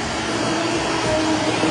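A hair blower runs close by with a loud, steady broadband whoosh and hum that holds evenly throughout, with no speech over it.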